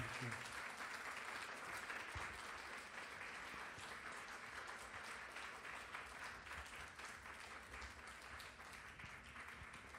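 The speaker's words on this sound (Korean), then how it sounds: "우리 박수로 한번 맞도록 하겠습니다." A church congregation applauds to welcome a host and four panelists at a talk worship service, steady continuous clapping throughout, fairly distant and soft, with faint voices underneath.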